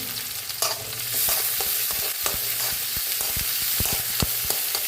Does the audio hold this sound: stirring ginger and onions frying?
yes